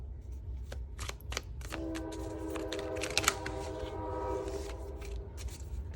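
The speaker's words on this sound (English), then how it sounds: "Sorry, there's a train." A nearby train passes with a long sustained horn tone held for several seconds over a rattling, clicking rumble, fairly faint and without voices.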